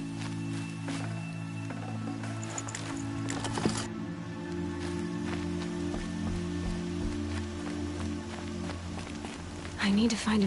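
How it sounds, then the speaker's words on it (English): Steady rainfall in the video game Horizon Zero Dawn, a constant pattering wash with scattered droplet hits, heard under a speaking voice and low background tones. "The air was getting thick. Been waiting for rain."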